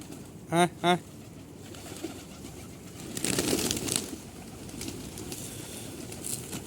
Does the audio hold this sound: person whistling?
no